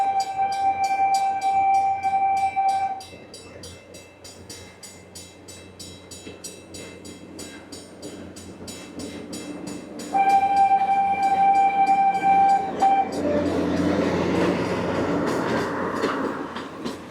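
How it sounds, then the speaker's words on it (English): A train at Disney's Animal Kingdom approaches with two long, loud horn blasts separated by a lull, followed by rumbling and rhythmic wheel clatter as it rolls past. "wait for the train to come"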